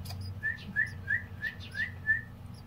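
Several baby birds in a small birdhouse give high, repeated whistling calls, about six short chirps in an uneven series, fairly close, over a steady low background hum.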